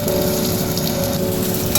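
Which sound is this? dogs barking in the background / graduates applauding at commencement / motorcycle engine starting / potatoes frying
potatoes frying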